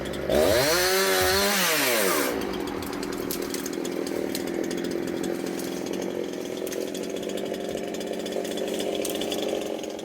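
A chainsaw on a roof revs up with a rising and falling whine, then settles into a loud, continuous buzzing cut that runs steadily to the end.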